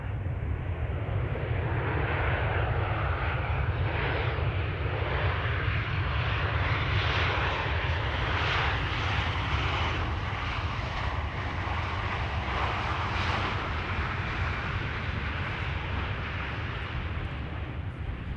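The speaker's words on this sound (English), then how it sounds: "next up, Transavia flight 738 arriving from Kusamo" A ten-year-old Transavia jet airliner, registration PH-HSM, arrives at Amsterdam Schiphol, its engines giving a loud, continuous, rumbling roar that holds steady throughout without anyone speaking.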